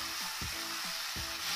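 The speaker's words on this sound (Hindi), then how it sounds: "मिर्ची डालेंगे और इसको अच्छे से मिक्स करेंगे।" Green chillies being stirred and mixed for a karonda (natal plum) pickle, a brief close scraping and tossing in two quick pairs over a steady hiss.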